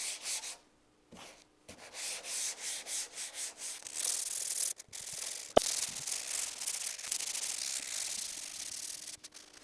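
Sandpaper rubbing over a rough, gritty Honda Civic Si hood, a steady hand-sanding scrape in repeated strokes, close and continuous after a brief pause near the start.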